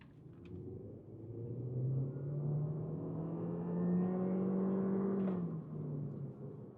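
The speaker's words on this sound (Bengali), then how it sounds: "ইকো মোডে আপনাদেরকে একটা পুল করে দেখাই।" A Honda Civic FL1 in eco mode accelerates hard. Its engine drone climbs steadily in pitch for several seconds, holds loud and continuous, then dips briefly near the end with no talking.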